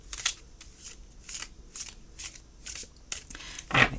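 Tarot cards being riffle shuffled by hand, a series of quick crisp fluttering bursts in an irregular rhythm, close up and clear, ending with a louder riffle and no talk.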